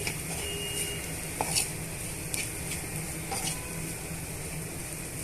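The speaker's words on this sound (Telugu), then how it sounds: "కరివేపాకు వేసుకొని కొంచెం అటు ఇటు మిక్స్ చేసుకోండి" Egg and curry leaves being stirred and fried in a pan: a steady close sizzle with light intermittent scrapes and taps of a spatula against the pan.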